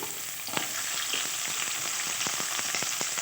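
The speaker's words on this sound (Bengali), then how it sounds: "এবার এখানে কেটে রাখা আলু শিমগুলো আমি দিয়ে একটু ভেজে নেব।" Chopped potatoes and beans fry in oil seasoned with panch phoron and dried chillies, a close, continuous sizzle broken by sharp crackles and pops, with no talking.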